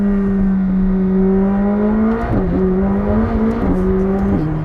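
A McLaren 765LT engine drones loud and steady at high revs, then shifts down with quick dips in pitch and spikes of revving, its whine close and continuous throughout.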